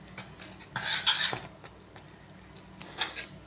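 Thick fermented rice dosa batter, made from ration rice, is stirred in a bowl, giving soft wet squelching swirls with a louder burst of scraping near the middle and another toward the end, close and without talk.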